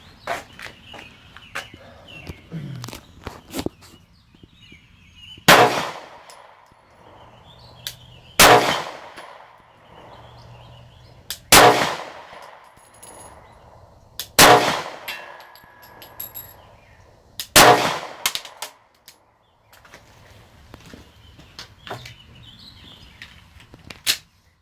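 A Sig Sauer P365 pistol with a 10-round magazine and no pinky extension fires at an outdoor shooting range, giving a slow series of sharp, loud single shots spaced a few seconds apart, with faint birdsong between them.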